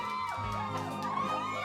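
A crowd of schoolchildren cheering and whooping together, a brief burst of overlapping shouts at moderate distance.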